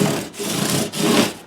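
Guitar frets being sanded with 600-grit paper-backed sandpaper, two steady back-and-forth rasping strokes with a short gap between them, close and clear with no talking.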